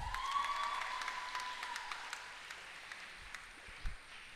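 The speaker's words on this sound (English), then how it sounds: "Can we now give a loud round of applause for Kriti Raghavan?" An audience claps steadily at a school graduation ceremony in Bangalore, faint and distant, with a ringing tone fading early on.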